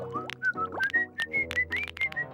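A cartoon character whistles a short, bouncy tune in a French animated series, a run of quick bright notes sliding upward, close and clear, with faint background sounds beneath.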